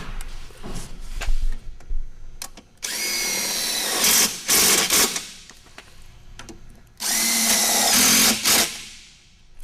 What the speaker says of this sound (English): With that in place, we'll just install our screws.